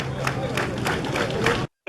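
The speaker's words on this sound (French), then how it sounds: "Il faut vous applaudir encore" Crowd applause at a gathering, a dense, steady patter of many hands clapping together with murmuring voices, continuing for about a second and a half before cutting off abruptly.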